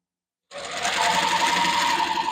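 A sewing machine runs steadily and close by, stitching a fabric hair scrunchie in one continuous burst after a moment of silence, with no talking.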